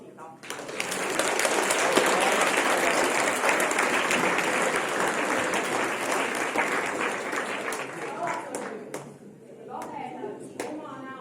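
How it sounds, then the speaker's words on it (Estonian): Loud, dense applause from a large audience at a dance and movement festival fills the space near and steady, fading slightly toward the end as scattered claps and a voice come through. "me alustame kohe suure aplausiga"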